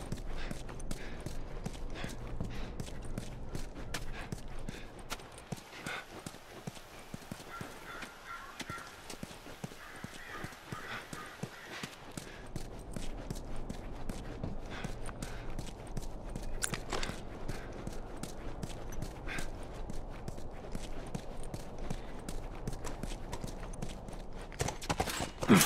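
Horse hooves clip-clop steadily on the ground in The Last of Us, a continuous walking rhythm heard close under an ambient game soundscape, with faint occasional voices.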